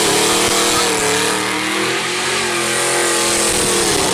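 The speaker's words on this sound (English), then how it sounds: "Hit the gas, and it screamed with a thunderous roar, a metallic howl that was instantly recognizable." A Ford GT500 big block engine revs hard, a loud, continuous throaty roar with steady harmonic drone held close and unbroken for about four seconds before cutting off abruptly.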